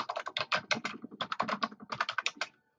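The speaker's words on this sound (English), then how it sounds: "and then I just type" Rapid bursts of keystrokes on a computer keyboard while entering text into notes, crisp close clicks in quick uneven runs with short pauses, then stopping.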